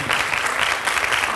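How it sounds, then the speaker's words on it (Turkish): A crowd applauds the board and its chairman İsmail Şatıroğlu at a Trabzon Days event, a dense, continuous clapping that holds steady for the whole moment. "güzel bir alkış istiyorum ben sizlerden"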